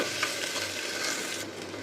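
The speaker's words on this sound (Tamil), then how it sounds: "2 மீடியம் சைஸ் வெங்காயம் நறுக்கி சேர்த்துக்கிறேன். நல்லா வதக்கிக்கலாம்." Chopped onions and ginger-garlic paste sizzle and sauté in a hot pan with a steady crackle, occasional stirring scrapes mixed in, close and continuous.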